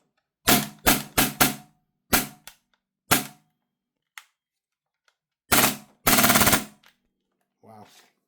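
A VORSK VMP1 gas airsoft gun fires in sharp, loud, close bursts: a quick run of four shots, then spaced single shots and a short automatic burst, with silence between.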